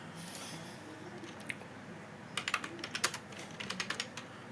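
Typing on a computer keyboard, quiet at first, then a run of quick, close, crisp key clicks in bursts with short pauses, alone against light room noise.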